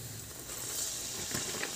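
Ragi burelu fry in hot oil, giving a steady, soft sizzle with light crackles throughout.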